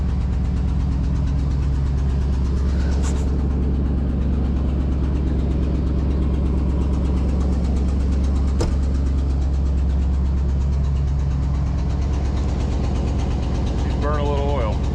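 1969 Ford Galaxie XL convertible, slightly burning oil, idles steadily with a deep, even rumble up close. Short faint clicks and a brief squeak ride over the continuous engine drone.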